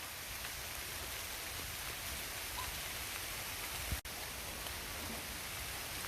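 Raindrops falling outdoors make a steady, even hiss throughout, with one sharp close tap near the end.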